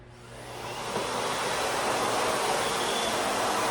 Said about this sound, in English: I'm gonna show you real quick that this vacuum is not loud either.